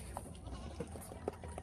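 Goats on a small farm bleating in short separate calls, three or four brief cries spread across a quiet background, fairly close.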